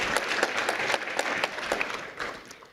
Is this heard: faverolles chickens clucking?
no